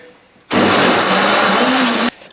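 An electric blender whirs loudly and steadily for about a second and a half while blending omelette batter, then cuts off abruptly.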